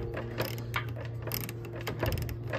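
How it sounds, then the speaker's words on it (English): A ratchet turns a radiator petcock with an SP Tools 91900 petcock tool, giving a steady run of close, quick mechanical clicks heard alone at moderate volume. "it's just a ratchet."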